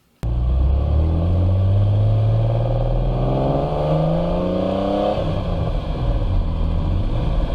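A sports car with an aftermarket Pride exhaust rumbles loudly and revs up in a long rising sweep, then settles to a throaty idle burble, close by with no talking.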